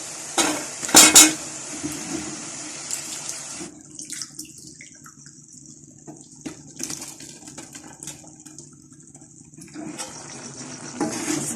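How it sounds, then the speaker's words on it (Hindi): Potatoes, cauliflower and peas tipped into fried tomato masala in a pan make a loud clattering rush at the start, followed by a softer crackling hiss and occasional light scrapes as they settle and cook. "मसाले में अब सब्जी डाल लूंगी।"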